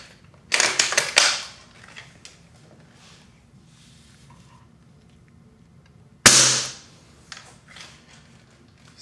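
A VSR-10 airsoft rifle fires a 0.4 gram BB twice, each shot a sharp, close crack with a short clattering tail, the two spaced several seconds apart in a quiet room.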